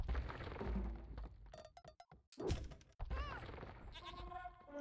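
Goats bleating in a strategy video game, several wavering cries cutting in among thunks and thuds of game action, over a low background bed.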